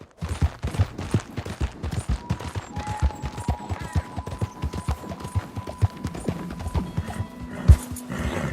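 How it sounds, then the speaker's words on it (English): A horse gallops in a video game, steady rapid hoofbeats pounding close and loud, with a neigh and a few sharp bursts near the end over a faint background tone. "What a good horse."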